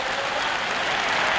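A stadium crowd of 25,000 at a 1980 Zurich athletics meeting roars and applauds steadily during a women's 1500 m race, a dense, loud wash of cheering with no break.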